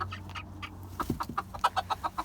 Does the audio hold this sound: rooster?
yes